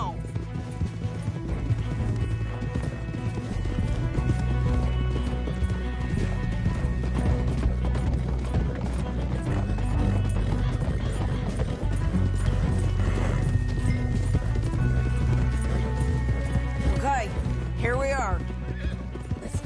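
Horses gallop with steady clip-clop hoofbeats and whinnies in Red Dead Redemption 2, loud and continuous under a dense game soundtrack with voices talking throughout.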